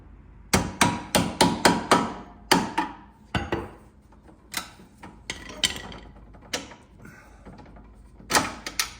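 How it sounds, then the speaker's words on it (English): A hammer tapping bolts out on a 2020 Honda Talon 1000x4 utility vehicle, a quick burst of about six sharp metallic strikes followed by scattered single taps and a short closing pair, close and alone. "So I just tap these out a little bit."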